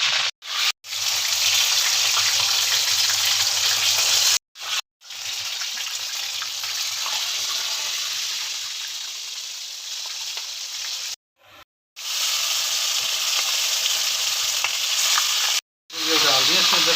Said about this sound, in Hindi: ये देखिए ज़बरदस्त से फ्राई हो रहे हैं।